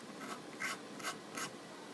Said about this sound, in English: shave some powder off of it just by scraping the razor